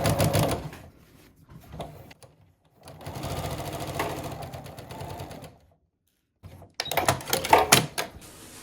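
Sewing machine stitching a long shirt sleeve in bursts of rapid needle chatter, with short pauses between runs and a louder final burst, up close and with no talk.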